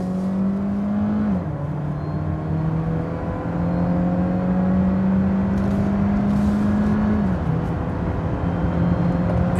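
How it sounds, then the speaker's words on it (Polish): A Citroen C5 X PHEV 225 with eAT8 automatic, in sport mode, is floored in fifth gear: a loud, close engine drone climbs steadily, dipping briefly at two shifts, under continuous road and wind noise. "I już zmieniam pas. Pedał w podłogę."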